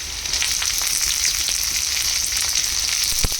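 Green chillies, curry leaves and chopped onion sautéing in hot oil for a yellow potato bhaji, producing a loud, even hiss with a few scattered pops and one sharp knock near the end.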